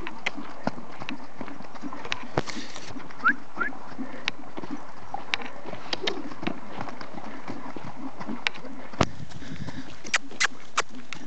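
Horse trotting outdoors, hooves giving a steady, fairly soft clip-clop rhythm at middle distance over a constant background hiss, with faint birds in the distance.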